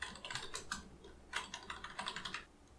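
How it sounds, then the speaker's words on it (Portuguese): A name being typed on a computer keyboard, with a steady patter of close, fairly quiet key clicks in two bursts separated by a short pause. "Só digitar o nome que você vai saber."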